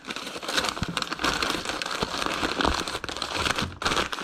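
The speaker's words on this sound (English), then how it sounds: "I'm just going to put a piece of paper around it" Paper crinkles and rustles close up as it is wrapped around an item for shipping, a steady run of crisp crackling and crumpling with brief pauses.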